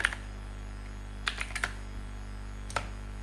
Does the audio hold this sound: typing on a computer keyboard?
yes